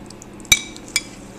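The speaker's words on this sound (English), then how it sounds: "Now let's just stir it all up." Spoon knocks twice against the side of a bowl while ambrosia fruit salad of pineapple tidbits, oranges, cherry tomatoes and shredded coconut is stirred, two sharp close clinks with a quiet pause between.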